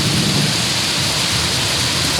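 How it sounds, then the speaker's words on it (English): Heavy rain pours down hard in a thunderstorm over a shipping-container cabin build, with thunder rolling beneath the loud, unbroken hiss and no talking. "Thunder, lightning."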